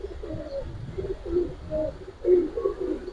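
Giribaz pigeons coo in a low, soft, repeated rumble from a loft collection, several overlapping murmuring calls rising and falling close by, with no talking.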